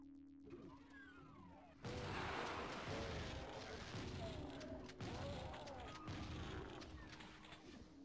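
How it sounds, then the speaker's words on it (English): Silenced pistol from a Doom game level: muffled gunshot thuds and impacts land over a busy mechanical game soundscape, with a sudden loud onset and several sharp hits that follow. "that silenced pistol sound effect was kind of perfect there"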